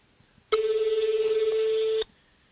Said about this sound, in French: Ça sonne. Première sonnerie.